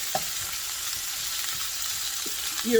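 Onions frying on low heat in a pot, browning with a soft, steady sizzle and a few faint stirring taps, no talk over it.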